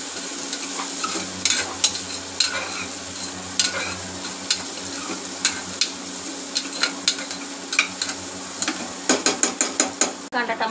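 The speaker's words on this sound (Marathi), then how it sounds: "परतून घेते मस्त।" Onion and tomato sauté in a pan for chicken pulao, a steady low sizzle broken by repeated scraping stirs and spatula clicks that bunch into quick taps near the end, close by with no talk.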